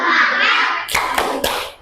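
Schoolchildren in a classroom doing a rhythmic spirit-clap chant: voices at first, then three sharp, evenly spaced group claps close by.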